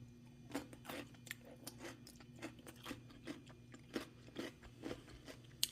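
Crisp, repeated crunches of radish kimchi (kkakdugi) being bitten and chewed close to the mic, in a steady rhythm over a low background hum.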